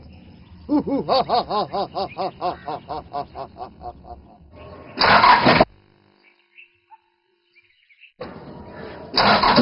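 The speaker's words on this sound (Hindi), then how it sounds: "ये गाड़ी क्यों नहीं स्टार्ट हो रही?" A car's engine cranks over and over without catching, a rhythmic run of whirring starter pulses lasting several seconds, followed by short bursts of broadband noise and a near-silent pause.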